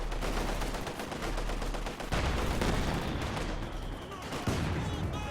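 Mortar fire in a Company of Heroes 2 match: a steady, loud barrage of crackling shots and thumping impacts, with a sharper blast around the middle, filling the whole stretch.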